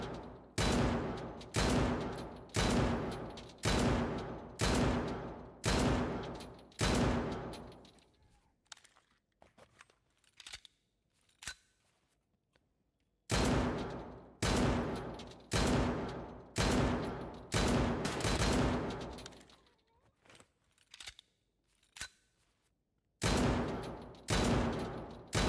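Rapid bursts of automatic gunfire in Escape from Tarkov, a PvE match, loud and repeated in quick volleys with pauses and quieter scattered shots between them.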